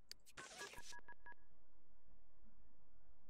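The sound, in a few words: phone dialing in video game The Sims 2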